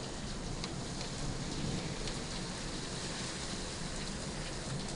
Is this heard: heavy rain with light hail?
yes